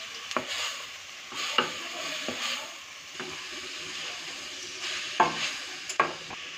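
Minced meat (keema) sizzles steadily in a pan while a spatula stirs and scrapes it, giving sharp clacks every second or so over the constant frying hiss, close up and without talk.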